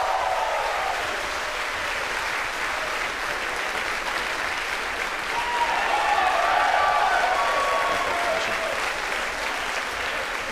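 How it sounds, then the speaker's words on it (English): A room of mission staff applauds and cheers after Falcon 9 stage separation during the Merah Putih launch, a continuous wash of clapping that swells slightly near the middle and continues throughout. "as you can hear by the applause"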